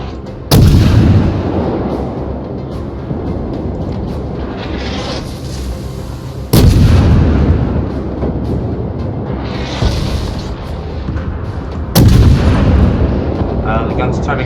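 Naval ship guns fire in the World of Warships video game, three heavy booming salvos spaced about six seconds apart, each followed by a long rumbling roar, loud and close.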